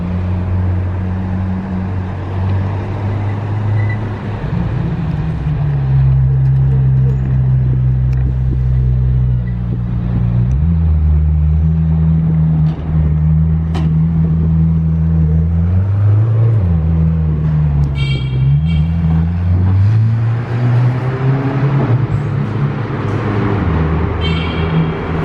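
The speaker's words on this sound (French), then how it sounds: "Bon bah voilà, le petit passage de la Senna." A McLaren Senna supercar drives past in a tunnel, its deep engine drone rising and falling in pitch as it shifts through gears, loud and close, with wind buffeting the microphone.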